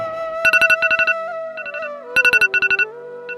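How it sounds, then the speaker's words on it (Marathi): A mobile phone alarm rings with rapid bursts of electronic beeps in repeated groups over a sustained, wavering synthesized tone, loud and close with no talking. "आता आपल्याला उठवतो तो आपल्या मोबाईलचा अलार्म"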